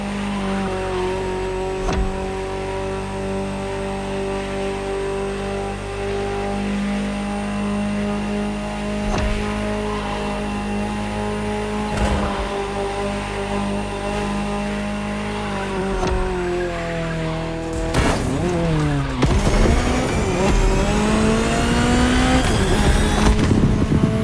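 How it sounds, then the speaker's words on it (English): A Ferrari supercar in the racing game The Crew Motorfest drones along at steady speed with a close, continuous engine tone and brief shift dips, then revs hard and squeals its tires near the end. "Just listen to the car you're driving."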